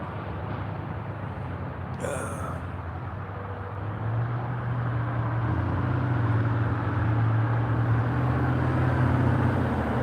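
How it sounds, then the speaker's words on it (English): Traffic passes along Federal Blvd in Adams County in the morning, a continuous low rumble of cars and engines that swells louder in the second half, fairly near, with no clear talking. "I'm hearing a lot more traffic going by as the morning moves along"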